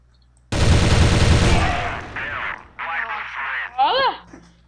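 A sharp, loud sniper rifle shot in the Crossfire online shooter game, its blast and rumbling tail ringing out for over a second, followed by players talking and reacting.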